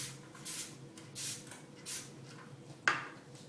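Three short hissing bursts of nonstick cooking spray with flour from a can onto a glass or metal baking pan, evenly spaced, then a brief clink of metal in a quiet kitchen.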